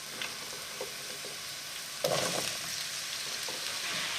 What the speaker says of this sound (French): une fois que l'huile est chaude, on va venir y jeter nos courgettes